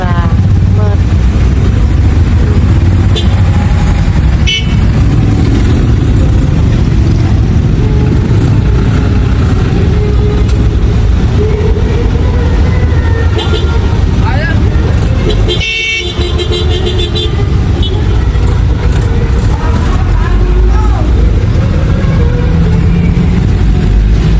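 Dense evening road traffic rumbles loudly and continuously, with car and motorcycle engines and an occasional horn toot close by under faint voices.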